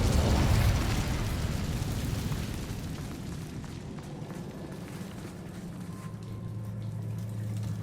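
Incendio fire spell cast in Hogwarts Legacy, a loud fiery burst that erupts at the start and decays into a long rumbling roar with a faint hum, no voices.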